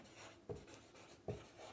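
Chalk or marker writing the word for geometry on a classroom board during a maths lesson on lines, angles and rays, heard as soft scratchy strokes with two sharper taps, fairly quiet and close, with no voices.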